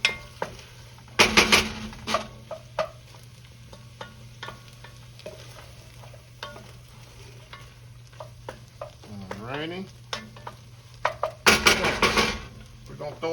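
Onions and vegetables sautéing in a pot for old-school cabbage and pork, a low steady sizzle under repeated close scrapes and clanks of a spoon against the pot, with a few louder stirring bursts.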